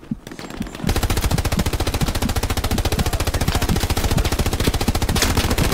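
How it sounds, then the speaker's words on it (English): Rapid automatic gunfire from the video game Hell Let Loose, heard as dense, continuous bursts of shots that start after a brief quiet moment and keep going loud and close. "I'm hearing your gun, is that you?"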